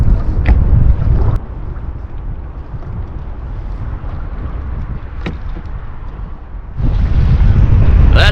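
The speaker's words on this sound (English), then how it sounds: "25-mile-an-hour winds out of the north on the St. Croix." Strong 25 mph north wind on the St. Croix River in Minnesota buffets the microphone in a steady, loud roar, easing slightly in the middle and gusting harder near the end, with no talking.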